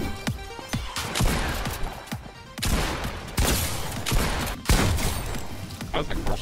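Rapid bursts of video game gunfire crackle through a busy, dense battle mix, with repeated sharp shots and volleys across the stretch and talk mixed in.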